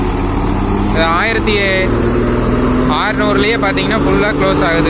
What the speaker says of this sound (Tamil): டிராக்டர் சவுண்டே கேட்கலிங்க, அப்படியே மிஷின் சவுண்டு தான் கேட்குது